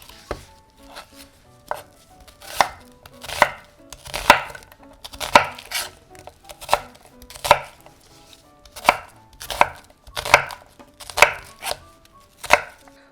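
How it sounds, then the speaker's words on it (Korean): A knife slicing an onion on a cutting board for kimchi stew, a dozen or so sharp, evenly spaced chops with a crisp crunch on each stroke, close and alone. "단맛을 주기 위해서 양파를 좀 하나 썰어 넣어 볼게요."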